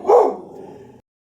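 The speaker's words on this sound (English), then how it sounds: "my dog is barking." A dog gives a single close bark that fades quickly into a short trailing tail, clear and alone.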